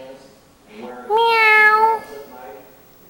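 A voice imitates a cat, giving one clear, drawn-out meow up close after quieter background sounds at home.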